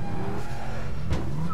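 A car engine drones steadily in the video game APB Reloaded, with a short tire squeal near the end as a stuck car is worked loose, close and fairly loud.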